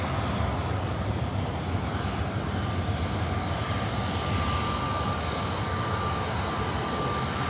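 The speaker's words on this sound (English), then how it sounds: "A320 Neo is the next takeoff on 24 left." An Airbus A320neo jet roars steadily on its takeoff roll from runway 24 left at LAX, a loud, broad, continuous engine rumble heard outdoors with no talk.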